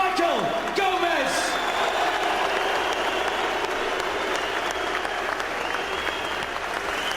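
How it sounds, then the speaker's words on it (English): A boxing arena crowd applauds and cheers after a bout, with dense, loud clapping and scattered whoops under an announcer's voice at the start. "A round of applause for the gallant Michael Gomez."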